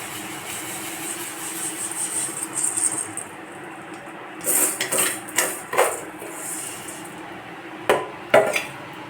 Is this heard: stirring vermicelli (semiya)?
yes